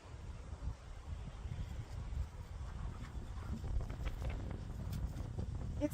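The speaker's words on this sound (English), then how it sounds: "It's quite windy out here," Wind blowing outdoors and buffeting the microphone, a continuous rough low rumble with gusty swells that lasts throughout and is moderately loud.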